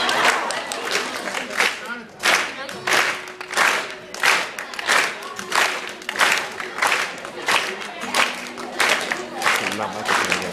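Rounds of clapping and cheering from a crowd at a Rubik's Cube competition, coming in repeated loud bursts with a voice talking over part of it.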